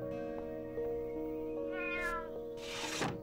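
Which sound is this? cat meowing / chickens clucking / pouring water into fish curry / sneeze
cat meowing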